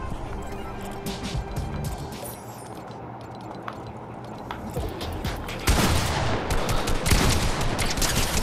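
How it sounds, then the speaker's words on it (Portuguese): Gunfire in the video game Fortnite crackles in scattered sharp shots, then swells into a louder, denser volley over the second half, with game background noise throughout. "já começa me dando tiro"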